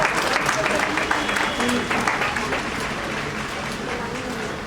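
An audience at the Byatikram Women of the Year 2019 awards evening gives a big round of applause, a dense, steady wash of clapping that holds evenly throughout, with a voice speaking over it.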